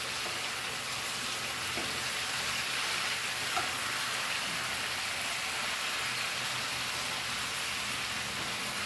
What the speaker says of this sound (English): So let's mix this together.